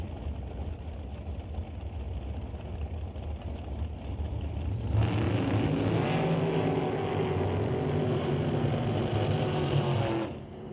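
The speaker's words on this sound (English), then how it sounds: "Jan Christensen rolls up beside Greg Dowdy. Greg Dowdy in the Rad Torque Systems. Black and red dragster," Dragsters, including a black and red Top Comp car, race down an NHRA drag strip. A distant engine rumble swells halfway through into a loud, sustained roar that holds for several seconds and then cuts off abruptly.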